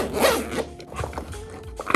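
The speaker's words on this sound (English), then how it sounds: "this has actually got zips to shut it" A zipper on a Shark Flexstyle storage case is pulled shut in quick, close rasping strokes, ending with a short final tug.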